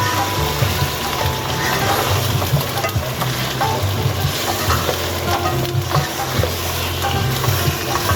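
Mutton pieces fry with ginger garlic paste for a korma, a loud continuous sizzle and bubbling with steady stirring throughout, close by.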